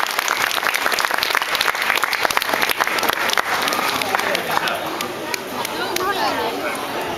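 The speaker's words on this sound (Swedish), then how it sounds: "Kan ni ge dem en applåd?" An audience applauds a band after a song at a concert at Tuna Park, Eskilstuna: dense, steady clapping mixed with crowd chatter throughout.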